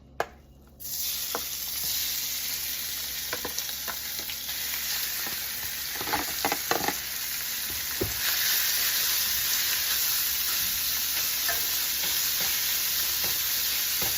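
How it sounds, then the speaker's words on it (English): Steak dropped into a pan on medium-high heat, a sharp hit followed by loud, continuous close sizzling with bursts of crackle and some stirring. "I have this pan on sort of medium-high heat. Time to go in."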